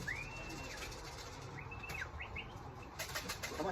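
Racing pigeon arriving at its home loft after a 285 km young-bird race, several quick bursts of wing flapping close by, with faint chirps and outdoor background noise.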